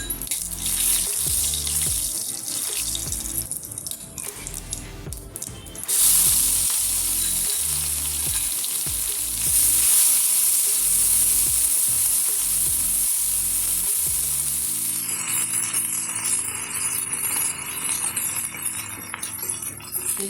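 Green chili and garlic fry in hot oil in a pan, giving a loud, continuous sizzle with occasional stirring scrapes, and the crackle surges and shifts partway through.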